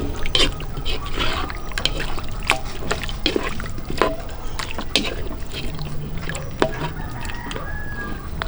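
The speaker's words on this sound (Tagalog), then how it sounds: "Lagay na din ako ng konting tubig." A little water added to spare ribs caldereta cooking outdoors, a splashing, dripping pour amid sharp clinks and a rooster crowing nearby, fairly loud and close.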